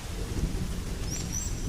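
Rain falling on open savanna in the Serengeti, a steady dense wash with low rumbling underneath and faint high bird calls near the end.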